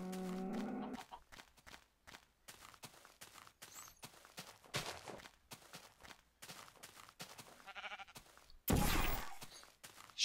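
Sheep in the Minecraft video game give a few short bleats, the clearest near the start, among other scattered, intermittent in-game sounds.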